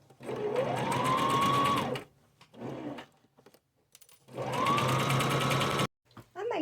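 A sewing machine runs down the seam of a thrifted men's shirt in two bursts of about two seconds each, with a rising whir at the start of each and quiet handling noises between them.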